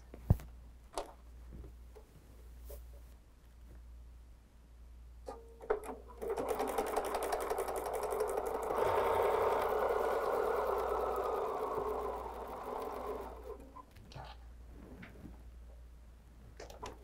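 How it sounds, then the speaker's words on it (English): A sewing machine runs in a steady whirring burst for several seconds, preceded and followed by scattered clicks and handling noises, fairly close. "So we'll take this to the sewing machine"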